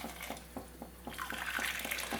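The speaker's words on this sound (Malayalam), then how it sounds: "മൂന്ന് കപ്പ് അളവിൽ നല്ല തിളച്ച വെള്ളം നമുക്ക് ഇതിലേക്ക് ഒഴിച്ചു കൊടുക്കാം" Boiling water poured into a pot of basmati rice for chicken pulao, a steady rushing pour that swells after a second, with faint rhythmic taps beneath.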